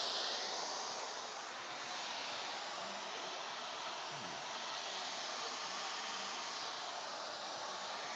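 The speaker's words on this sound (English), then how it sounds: "before we go under the dryer." A hood hair dryer runs with a steady, loud, even whoosh of blowing air for the whole stretch, without pauses and with no talking.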